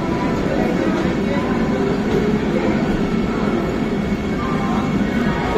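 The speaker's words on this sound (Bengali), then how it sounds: "বন্দে ভারত ট্রেনটি আমাদের চলে যাচ্ছে ছেড়ে" A Vande Bharat train pulls out of Santragachi station, a loud continuous rumble of rolling wheels and carriages heard from close by.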